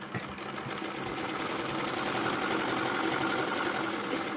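A sewing machine stitching the folded edge of a baby dress, running continuously up close with a loud, rapid, even rattle throughout.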